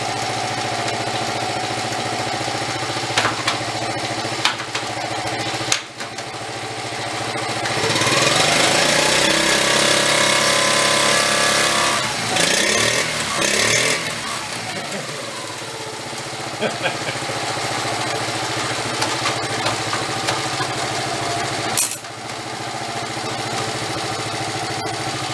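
A restored Honda Z50 minibike engine idles steadily nearby, its small single-cylinder putter swelling briefly louder in the middle before settling back, with a few clicks and bumps around it.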